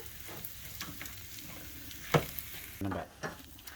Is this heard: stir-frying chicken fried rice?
yes